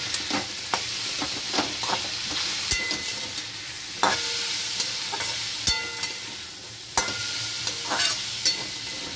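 A spatula scrapes and stirs potatoes with grated ginger in a sizzling pan, making a string of sharp, irregular scraping strokes over a steady, close frying hiss, with no voices.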